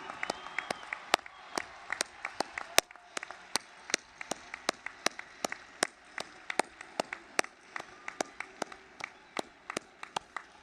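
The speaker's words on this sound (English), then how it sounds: "Take a bow as we applaud you." An audience at a college of the arts commencement ceremony applauds the graduates, giving sharp, distinct claps at a fairly steady pace from a modest crowd, each hand strike clearly separated and echoing slightly in the hall.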